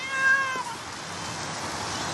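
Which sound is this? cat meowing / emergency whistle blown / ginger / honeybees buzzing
cat meowing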